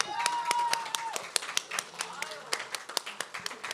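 Applause from an audience at a student talent showcase thins into scattered, distinct individual claps, fairly soft and tapering, with a voice briefly heard at the start.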